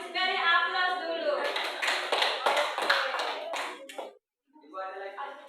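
In a school classroom, a short burst of applause breaks out from students, with scattered claps mixed with a voice. It stops briefly before a voice returns.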